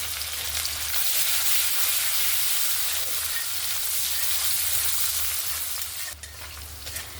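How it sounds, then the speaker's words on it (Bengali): Chopped onion and three slit green chillies hiss and spit in hot oil in a pan, a loud, steady close-up sizzle that runs throughout with no voices. "এবার দিয়ে দেব একটু পেঁয়াজ কুচি আর 3টা চেরা কাঁচা লঙ্কা।"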